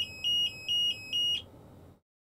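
Alarm on the lift arm controls of a Heil DuraPack Python automated side loader garbage truck: four evenly spaced, piercing electronic beeps, close and loud over a low engine rumble, then the alarm cuts off and the idle fades to silence.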